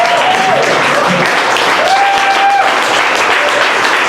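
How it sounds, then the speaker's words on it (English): Sustained audience applause for comedian Kevin Scow fills the room at a comedy show, a steady dense wash of clapping with a few faint whistles and cheers on top. "Let's have another applause for Kevin Scow."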